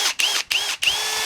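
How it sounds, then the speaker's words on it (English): A power drill runs near the mic during work on a Frick sawmill, its high whine rising in three quick bursts with short dips in speed between them. "I put it on the drill to show you"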